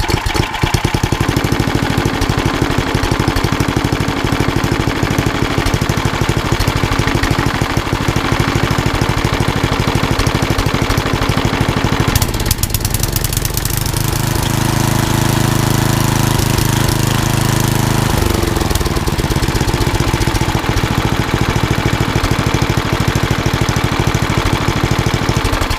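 A Tecumseh HM100 10 horsepower small engine runs steadily and loudly, a close, rough, rapid chugging that holds constant throughout with a brief shift in tone midway, no voices.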